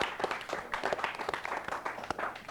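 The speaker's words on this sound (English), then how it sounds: "you guys deserve a big round of applause for your efforts" Audience clapping for quiz bowl finalists in a studio, fairly faint with distinct individual claps in an uneven patter across a short stretch.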